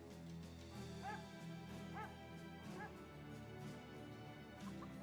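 Dogs in the video game Battle Brothers yip and bark in short rising calls, a few spaced cries over a continuous background game score.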